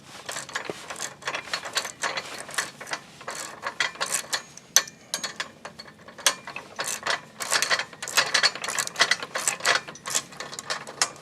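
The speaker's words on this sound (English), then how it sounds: "we'll use a 13mm socket to tighten these down" A ratchet with a 13mm socket tightens bolts on a Harbor Freight Pittsburg 1500 lb ATV and motorcycle lift, giving close, steady bursts of rapid clicking across repeated strokes with brief pauses between them.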